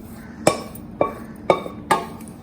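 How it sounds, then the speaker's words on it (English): Khichdi being mixed with tomatoes in a pan for masala khichdi, a spoon clinking against the pan four times at a steady, roughly half-second rhythm, close and fairly clear. "Mix the whole thing."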